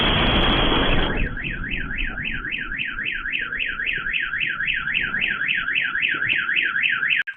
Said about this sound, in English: You're going to hear like car alarms going off